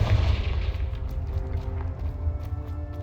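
A Confringo blasting spell cast in Hogwarts Legacy near a cave entrance, a deep rumbling boom with low-end weight that decays over a few seconds, loud and near with no speech.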